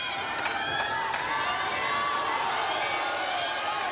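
Arena crowd at a women's singles table tennis match at the ITTF World Championships in Doha, a sustained swell of cheering and shouting voices with scattered whoops, steady and moderately loud throughout.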